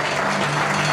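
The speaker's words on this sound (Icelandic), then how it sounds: "Við skulum gefa hann gott klapp" Audience at a darts club championship final applauding a competitor, a dense, continuous burst of clapping from a crowd indoors, with a steady hum underneath.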